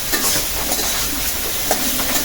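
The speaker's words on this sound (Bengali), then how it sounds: "পেঁয়াজের সাথে যদি লবণ দাও তাহলে পেঁয়াজটা তাড়াতাড়ি মজে যায়, মানে ভাজা হয় তাড়াতাড়ি।" Onions sizzle in a pan after salt is added, a steady, fairly loud frying hiss with faint stirring scrapes and no voices.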